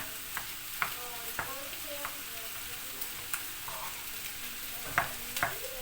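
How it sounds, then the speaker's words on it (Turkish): Chicken döner sizzles and fries in a pan, with repeated clinks and scrapes of a utensil stirring at irregular intervals. "Dönerler de kızardı."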